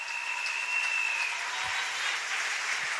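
A church congregation applauding and cheering, a sustained wash of clapping with a faint high tone fading early, steady and moderately loud from start to finish.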